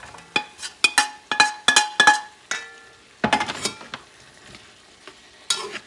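Pork goes into a pot for Puerto Rican asopao rice stew and sizzles faintly beneath a quick series of sharp metal clinks from a spoon being stirred against the pot.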